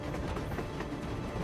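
A railcar rolling along rails in the game Metro Exodus: a steady, continuous rumble with faint rhythmic clatter, moderately loud and even throughout, with no voices.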